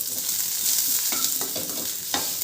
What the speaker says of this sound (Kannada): 1 ಸ್ಪೂನ್ ಎಣ್ಣೆ ಹಾಕಿಬಿಟ್ಟು ಫ್ರೈ ಮಾಡ್ಕೊಳ್ಳೋಣ